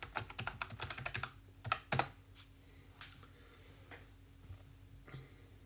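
A password is typed on a computer keyboard in quick, close bursts of clicking keystrokes, then a few scattered presses in a quiet room.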